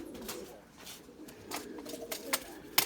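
Domestic pigeons in a loft coo softly among a few brief higher chirps and rustles, faint and close, with no talk.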